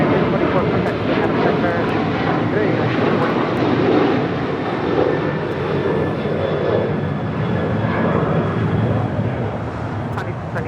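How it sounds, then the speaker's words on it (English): A United Boeing 737-900ER jet departing Los Angeles International Airport for Houston, its engines giving a loud, steady, broadband roar that holds throughout, with faint voices underneath. "That is United 644 departing to Houston Intercontinental on a 737-900 ER."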